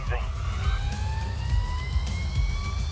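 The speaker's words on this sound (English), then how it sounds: "now we're basically just driving something that sounds like an RC car" An electric race car in the GRID Legends racing game gives off a high, steadily rising motor whine over a constant low rumble of driving noise.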